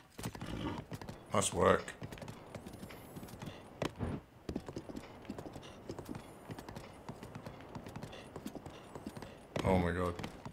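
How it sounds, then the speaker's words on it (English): A horse clip-clops up steep terrain in The Legend of Zelda: Breath of the Wild, with a rapid patter of hooves near and steady, brief whinnying bursts, and a voice speaking over it. "It's extreme horse climbing."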